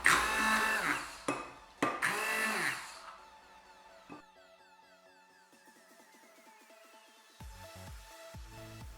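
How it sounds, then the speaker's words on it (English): A blender whirs in short loud pulses as it grinds blueberries into a coarse paste, two quick bursts up close before fading out into quieter background. "just put it in a blender and blend it to your coarse paste"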